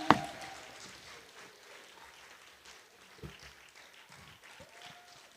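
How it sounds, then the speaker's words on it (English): Audience applauding at a book launch, a faint, fairly sparse patter of clapping that thins and tapers over several seconds, with a sharp knock near the start and a few voices murmuring underneath. "Let's keep clapping until she gets here."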